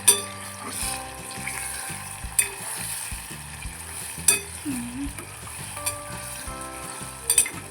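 Egg fried rice stirred in a hot pan, with a steady loud sizzle and clinks of the spatula against the metal throughout.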